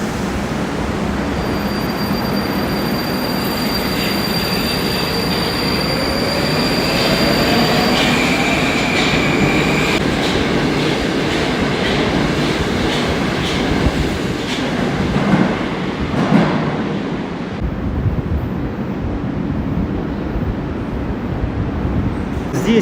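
A Moscow metro train rumbles and pulls away from a station, its wheels squealing and clattering over the rails in a steady, loud roar that fades slightly near the end.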